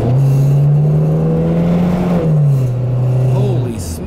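A Buick Skyhawk J-body GM coupe accelerating up a hill, its engine droning loud and steady from inside the cabin, pitch holding then dipping briefly as it shifts before pulling again.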